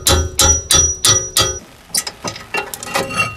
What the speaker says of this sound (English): with a bit of gentle persuasion with a hammer